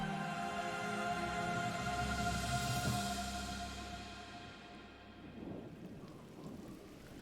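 Rain falling in the video game GRIS, a steady wash of rainfall with a low rumble and sustained musical tones beneath, fading slightly toward the end.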